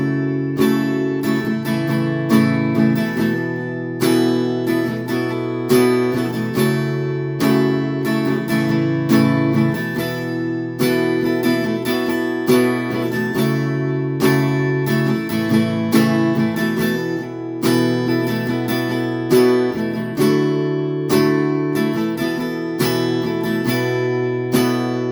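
Acoustic guitar strumming the chord progression of a song, a steady full-bodied rhythm of down and up strokes played continuously and alone, with no voices.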